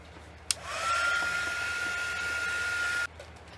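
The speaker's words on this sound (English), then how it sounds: "I'm going to hit that with the heat gun real quick" A heat gun blows steadily on a handmade minidori butterfly-concept cover, a sharp click at switch-on followed by an even, whining airflow hiss that holds for about two seconds before cutting off abruptly.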